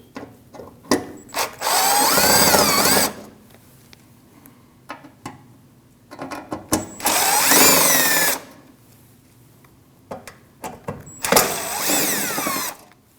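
Power drill backing out Phillips screws from the front inner fender liner of a Nissan NV2500 van: three sustained whirring bursts, close and loud, separated by quieter clicks and handling noises.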